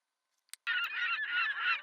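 A seagull sound effect gives one loud, harsh, sustained honking call of about a second, close and alone, after a couple of tiny clicks.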